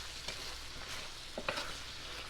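Vegetables being stirred with teriyaki sauce in a frying pan, a soft, quiet sizzle with light scraping and clicking of a utensil for a couple of seconds.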